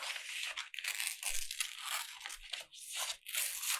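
Paper being roughly cut and torn around an apple picture for a collage, close and crisp with irregular rustling, tearing bursts and small crinkles.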